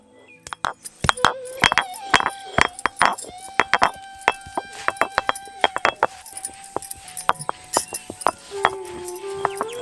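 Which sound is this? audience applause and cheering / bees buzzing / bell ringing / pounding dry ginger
pounding dry ginger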